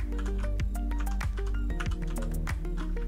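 Fast typing of Visual Basic code on a computer keyboard, a dense stream of clacking keystrokes close up over a steady low hum, with no speech.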